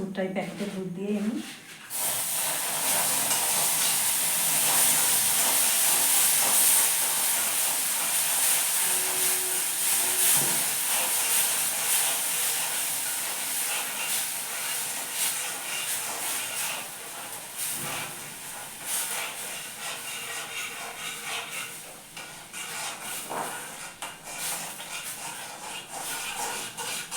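Packet milk poured into semolina already fried in ghee sets off a loud, steady sizzle and hiss that begins abruptly and continues throughout, gradually easing in strength.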